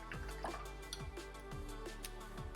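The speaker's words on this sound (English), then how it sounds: "I'm done with orange, so I'm going to rinse my brush." Paintbrush rinsed in a water container after orange paint, a faint series of soft dripping, swishing and tapping sounds at a steady, close rhythm.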